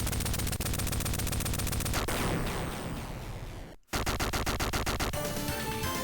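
Weapon fire in the Sega Mega Drive game Gunstar Heroes rattles continuously in fast, buzzing bursts, with a brief cut to near silence before the barrage resumes.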